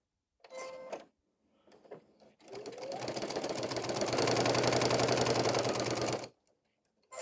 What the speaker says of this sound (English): I can continue this kind of straight line quilting throughout my project.